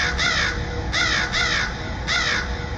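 Crows caw in four harsh, grainy calls, set in a haunted-village horror story, evenly spaced and close over a steady low background rumble, with no voices.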